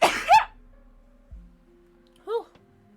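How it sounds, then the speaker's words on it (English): A single sharp human sneeze bursts out at the start, close and loud, followed by near-silence with a faint low thump and a short voiced sound later on. "I'm gonna sneeze."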